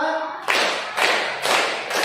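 A classroom of pupils claps in unison to a counted rhythm, with four sharp, loud group claps spaced about half a second apart.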